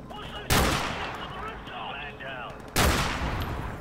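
Two sharp, loud sniper rifle reports in Call of Duty: Modern Warfare Remastered, spaced about two seconds apart, each with a booming crack and trailing echo over faint background game sounds.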